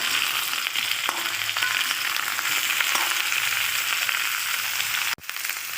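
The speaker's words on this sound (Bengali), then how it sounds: "এই সবজিগুলো এইরকম ভাজতে হবে" Steady, dense sizzling of pumpkin, cabbage and other vegetables frying in a pan for a fish-head mixed vegetable dish, continuous crackle close by with a brief break near the end.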